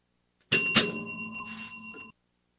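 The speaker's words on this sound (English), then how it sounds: "Well, that was the double bell." A bell rings out twice in quick succession, bright and ringing, signalling the end of a shift, then decays into silence.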